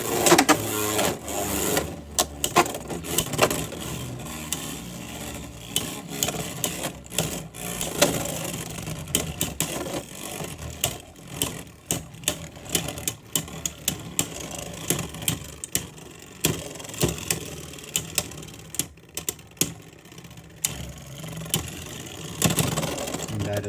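Beyblade X spinning tops launched and battling, a continuous rattling, scraping whir with frequent sharp clacks of collisions throughout, close and fairly loud.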